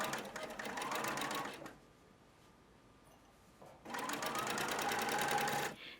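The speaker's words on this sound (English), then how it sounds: "So machine through all layers, removing pins as you go, and aligning the stay tape along the seam line." A sewing machine stitches through several fabric layers with stay tape along a pinned seam, running in two rapid, close bursts of rhythmic needle chatter separated by a quiet pause.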